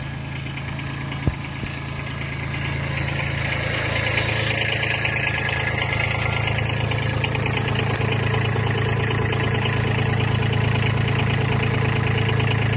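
Kubota B2301 compact tractor engine running steadily after a hydraulics repair, a constant close, loud idle hum with a low throb and vibration, plus a brief knock early on, no talk.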